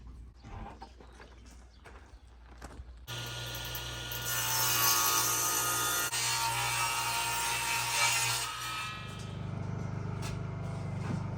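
A power saw cutting wooden window trim boards inside an off-grid cabin, a loud sustained whining cut lasting several seconds after a few light knocks of handled wood, then a lower motor hum as it winds down.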